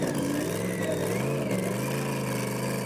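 A pulling tractor at a tractor-pulling event revs its engine at full throttle, a loud sustained roar with shifting pitch close by, steady and continuous throughout.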